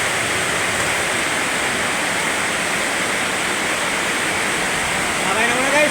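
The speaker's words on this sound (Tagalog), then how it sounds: "yung buhos ng ulan, napakalakas" Heavy night rain pours down in Dasmariñas, Cavite, a dense, steady roar of falling water that stays loud and unbroken throughout, with a faint murmur near the end.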